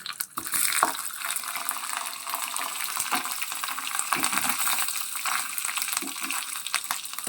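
Paneer cubes frying in a pan for paneer ghee rice, a close, steady crackling sizzle that continues without pause, with faint stirring.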